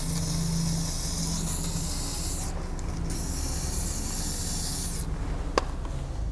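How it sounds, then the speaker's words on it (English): A steady hissing aerosol spray of battery terminal protector onto a boat's battery terminals runs in bursts, with brief pauses between sprays and a small click near the end. "Now I'm just going to give these terminals a bit of a spray with a"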